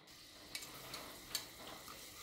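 Finely chopped onion frying in hot oil inside a pressure cooker on a gas stove, for prawn biryani: a faint, steady sizzle with a few sharp crackles popping through.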